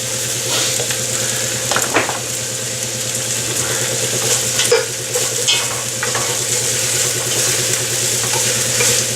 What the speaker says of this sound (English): we've got our onions going. We have a little oil in here to help them along